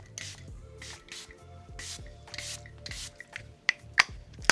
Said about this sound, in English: this is the One Size Powder Melt setting spray